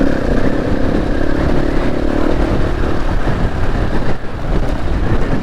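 Motorcycle engine labouring up a hill in the wrong gear on a camping trip, a loud, steady close-up drone with a rough, strained tone and no talking.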